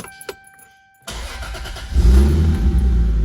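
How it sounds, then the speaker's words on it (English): A Toyota MKIV Supra converted from automatic to a manual T56 Magnum gearbox cranks with a short starter whir, then the engine catches and settles into a loud, deep, rumbling idle close by, with no voices. "I'm gonna go ahead and fire the car up"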